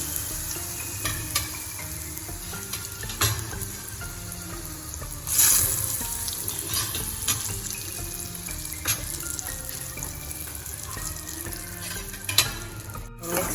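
Ridge gourd for Gujarati turiya nu shaak fries in oil with asafoetida and turmeric, a continuous close sizzle broken by scattered clinks and scrapes of stirring.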